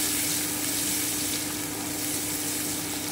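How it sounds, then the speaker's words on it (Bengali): Chopped onion and green chili fry in hot oil in a pan, a steady, dense sizzle that holds evenly loud from start to finish with no pauses and no one talking. "এবারে আমি কুচনো পেঁয়াজটা দিয়ে দিলাম। খুব ভালো করে ভেজে নেব।"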